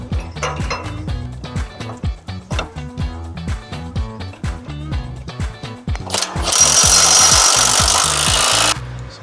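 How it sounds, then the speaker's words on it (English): Bolts being undone on the lift arm of a Massey Ferguson TU20 tractor, heard as a loud, fast, regular run of ratcheting or rasping strokes, followed by a steady, harsh, whirring burst near the end. "I'm going to try and undo these bolts here"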